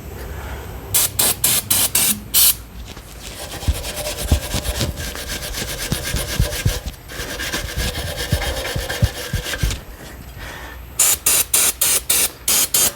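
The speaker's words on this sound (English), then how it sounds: "Spray that off again" Aerosol brake cleaner sprayed onto a C7 3.0T car's rear brake caliper during a rotor and pad job, long hissing bursts at the start and end with scrubbing and rubbing noises between them, close and fairly loud.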